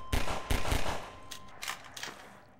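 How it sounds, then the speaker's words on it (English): Gunfire in the video game Half-Life 2 fires in a few quick bursts of sharp shots, loud at first and then thinner, with no talk over them. "Anyone else pick up a bunch of fucking gunshots at their face?"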